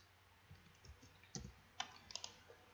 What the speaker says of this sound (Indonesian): kita tes dulu mengetik